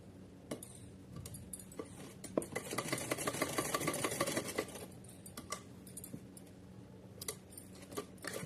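Sewing machine stitching a small choli for a Kanha idol's dress, a close rapid mechanical run lasting a couple of seconds amid quiet clicks and handling noises.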